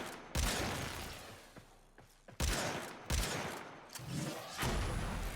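AkBronco Prime dual pistols firing headshots in a video game: several loud bursts of rapid gunfire, each followed by a decaying rumble, with a few short pauses between them.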